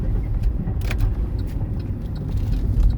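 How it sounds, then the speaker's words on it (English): A landscaping truck rumbles past an apartment complex where a lawn is being mowed, a steady low engine drone under constant mower noise with faint rattles, loud and close throughout. "we got a landscaping truck I gotta watch out for here"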